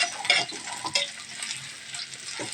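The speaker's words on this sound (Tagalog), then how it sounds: "magigisa na tayo" Food for adidas, a chicken-feet dish, sizzles and fries in a pan while a utensil stirs and scrapes now and then, close and fairly loud.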